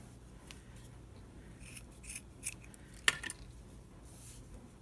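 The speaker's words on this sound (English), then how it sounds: "Just cut that off." Scissors snipping through braided cord close to the microphone, a few soft crisp cuts building to one sharp clean snip near the middle, in an otherwise quiet room.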